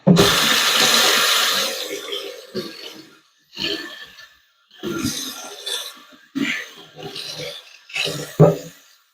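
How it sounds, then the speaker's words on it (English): Tap water runs into a kitchen sink while carrots are washed, a loud steady gush at first that then comes in short bursts broken by pauses, close by with no talking. "Wash these carrots here."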